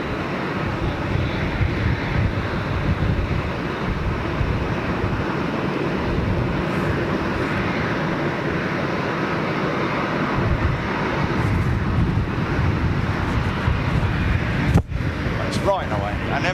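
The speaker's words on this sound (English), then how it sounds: "taxiing the aircraft in" A large jet aircraft taxiing in at an airport, a loud continuous engine roar and rumble holding steady throughout, with voices talking over it.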